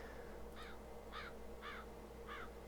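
Crows caw four times at a steady pace over a low, constant background hum, part of the ambient soundscape of the train simulator Trainz 2022 on the Clinchfield CK Extension route.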